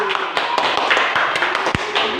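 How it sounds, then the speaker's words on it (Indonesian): Classroom applause for a student group after a presentation, a brief burst of scattered claps of moderate loudness from a room of pupils. "tepuk tangan untuk kelompok 3"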